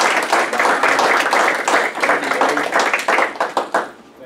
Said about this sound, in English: I just think it deserves a round of applause